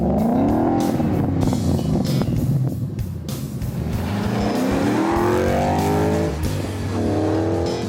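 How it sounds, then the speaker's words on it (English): A 2011 Ford Mustang with the 5.0L engine and MagnaFlow exhaust revs hard, its loud, close exhaust note climbing and falling through repeated throttle blips and pulls, with no talking. "let's go see what this MagnaFlow exhaust sounds like."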